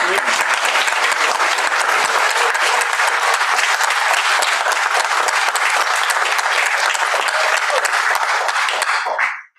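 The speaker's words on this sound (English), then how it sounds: "Applause for the class of 2023." Steady, full applause from a large crowd at an MFA graduation ceremony for the class of 2023, holding at an even loudness before cutting off abruptly at the end.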